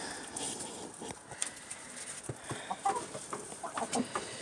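Chickens at a coop peck at mealworms and give soft, scattered clucks. The sound is faint and continuous over a steady background, with no talk.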